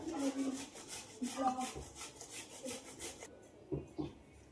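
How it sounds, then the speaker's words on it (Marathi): Jaggery being grated on a coconut grater, a quiet rhythmic rasping scrape repeated in short strokes, close up, then fading to a few faint knocks. "खोबर खिसणीने गूळ खिसला जो चटकन विरघळतो"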